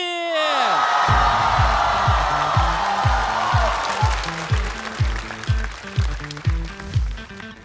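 An audience at a stand-up comedy show claps and cheers to welcome a comedian on stage, a loud sustained burst of applause under a rhythmic music beat.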